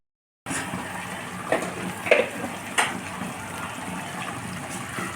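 Water is poured into a cooking pot of Malabar spinach and boiled ginger for a tilapia fish curry. A close, steady gushing pour with a few brief clinks, with no voices.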